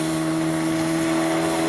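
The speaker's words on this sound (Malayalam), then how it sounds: "സ്പീഡ് ബോട്ട് എന്ന് പറഞ്ഞാൽ സ്പീഡൊന്നുമില്ല, കഷ്ടിച്ചിങ്ങനെ ഒച്ച മാത്രമേ ഉള്ളൂ" A speedboat engine on the Kumarakom backwaters drones in a steady, continuous hum with a few sustained tonal lines, fairly loud and unbroken, with no voices over it.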